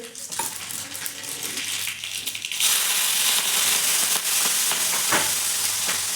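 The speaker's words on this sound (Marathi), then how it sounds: "आपलं तेल गरम झालं जिरे मोहरी टाकून देऊ एक चमचा मोहरी जिरे" Cumin and mustard seeds crackle and sizzle in hot oil, a steady close frying hiss that jumps louder midway as more seeds hit the pan, with scattered sharp pops throughout.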